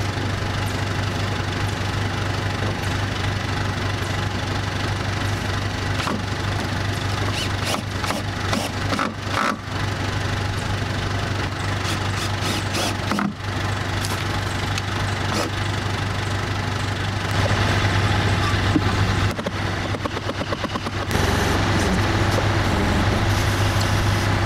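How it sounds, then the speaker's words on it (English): Backhoe engine idling and running steadily at a building site where solar kiln walls are being raised, a loud continuous low rumble with faint clanks on top. "But a backhoe is better than two."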